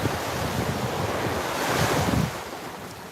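Small, gentle ocean waves wash in at a warm beach around golden hour, a close rushing surf with wind buffeting the microphone, swelling to a crest and then easing off.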